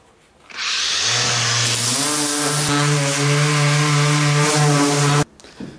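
A power tool sanding metal before welding, starting up with a loud steady whine whose pitch shifts slightly as it works the surface, then cutting off abruptly after about five seconds, close and alone.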